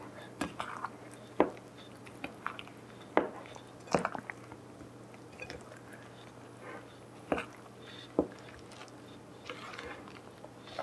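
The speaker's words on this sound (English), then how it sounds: "Now mix all of the ingredients together." A spoon works through almond cookie dough in a bowl, giving repeated soft squishy thuds and clicks of varying strength, close up, with faint background hum.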